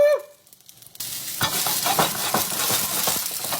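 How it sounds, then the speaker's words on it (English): Tomatoes pop and sizzle in a hot pan while shrimp scampi cooks, a brief quiet moment giving way to steady frying hiss with frequent sharp crackles, close and fairly loud. "Yeah, you hear that popping? That's what you want to hear."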